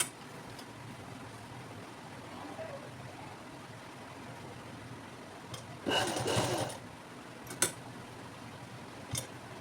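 A sewing machine stitches a zip onto fabric, running in one short burst midway against a quiet room hum, with a few faint ticks around it.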